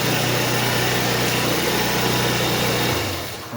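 A Kymco People S 200i scooter engine idles steadily with a loud, even mechanical hum close to the microphone, then drops off sharply near the end as the engine is cut.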